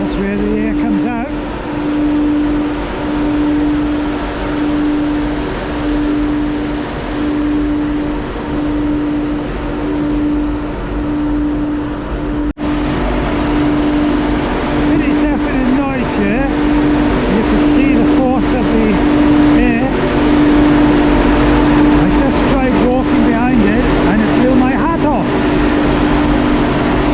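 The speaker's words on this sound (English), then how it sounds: "So the fan here is working and making quite a lot of noise and blowing air out the other side of the building" A large ventilation fan at the Big Pit coal mine in Blaenavon drones loudly and steadily, with a strong constant hum that continues throughout, rising slightly partway through, while a person talks over it.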